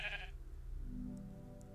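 Sheep in a Minecraft Feed The Beast farming game give a short, loud bleat, then a low steady game hum and faint chime-like blips carry on with no talk.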